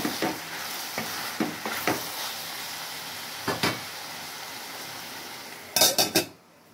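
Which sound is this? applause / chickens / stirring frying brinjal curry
stirring frying brinjal curry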